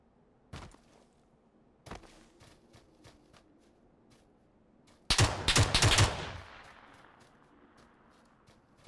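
Gunfire in the battle royale game PUBG on Xbox One X: a few isolated sharp shots spaced apart, then a loud rapid burst of automatic fire fading into a lingering echo.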